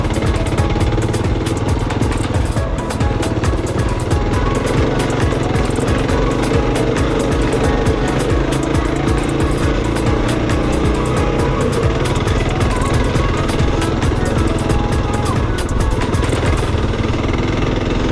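Kawasaki KLR 650 motorcycle ridden on a dirt track, its single-cylinder engine a loud, continuous, close throbbing drone with rattling and wind noise throughout, no talking.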